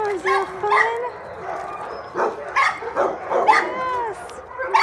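Two dogs play together, giving repeated yips, whimpers and short barks in quick bursts. The sounds are close and lively, and a person's voice talks intermittently among the barks.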